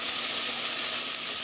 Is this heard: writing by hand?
no